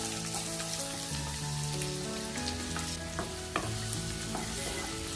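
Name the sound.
chopped onion frying in coconut oil in a pan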